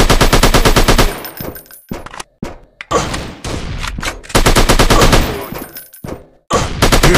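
Rapid machine-gun bursts from the Android shooting game Special Strike Counter Terrorist, loud and close, in several long volleys separated by short gaps and isolated shots.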